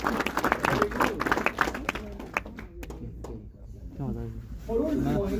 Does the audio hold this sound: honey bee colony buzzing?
no